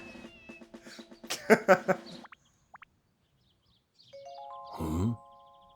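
Cartoon cats meow in WarioWare: Smooth Moves, a few close, drawn-out cries after some game chatter, followed by a brief rising chime and another loud, wavering meow.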